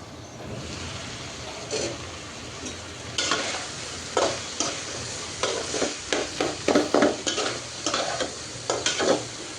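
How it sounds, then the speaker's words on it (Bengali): Bottle gourd and potato bhaji is stirred and fried in a pan, with a steady sizzle under irregular scraping stir strokes that grow busier and louder in the second half. No one talks. "তো এরপরেই তো ভাজিটা নাড়াচাড়া করে ভাজা ভাজা করে নিচ্ছি।"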